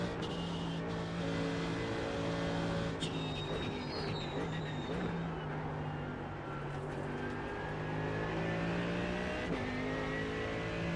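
Mercedes GT3 race car engine in a racing game on the Nordschleife, a loud sustained engine note climbing through the revs with gear shifts and brief dips, constant and close for the whole stretch.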